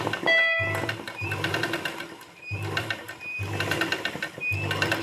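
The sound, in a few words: sewing machine stitching embroidery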